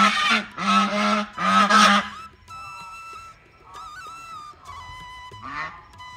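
Domestic ducks call outdoors near a rural home: three loud, harsh honking quacks in quick succession, then softer scattered calls and other faint sounds.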